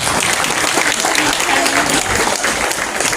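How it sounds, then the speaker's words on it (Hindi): Audience applause for a police department at a community police outreach forum in Malvani, steady dense clapping from a crowd filling the whole stretch, loud and continuous. "प्लीज़ खड़े होकर के इस पुलिस डिपार्टमेंट के लिए एक जोरदार तालियां बजाएं"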